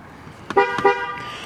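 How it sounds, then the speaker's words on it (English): A 2019 Dodge Charger PPV police car with a 5.7 HEMI sounds its horn in two short, close honks in quick succession, followed by a fainter tail of tone. "Honk does work."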